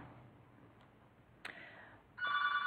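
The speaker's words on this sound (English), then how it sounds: "excuse the phone ringing" A telephone rings faintly in a room, its electronic trill entering near the end after a soft click, over quiet background noise.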